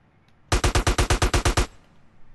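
A burst of about ten rapid, evenly spaced rifle shots in GTA San Andreas, loud and close, cutting off abruptly, with no talking over it.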